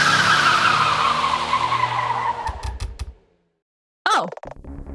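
Video game cars rush along a road with loud tire skids and engine roar that fade away, then after a short silence there is a quick squeal and more road noise.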